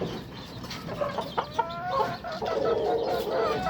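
Chickens and young chicks, about three months old, cluck and chirp on a farm, several birds calling in overlapping bursts at close range without any talk.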